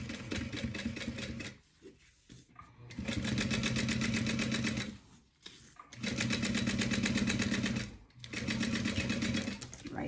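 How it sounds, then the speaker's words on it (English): A sewing machine stitches through a bubble mailing envelope at a size four stitch length, running in three loud, steady bursts of rapid rhythmic whirring separated by short pauses. "And then you're going to stitch that in place."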